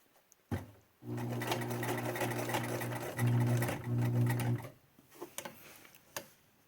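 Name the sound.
sewing machine stitching fabric masks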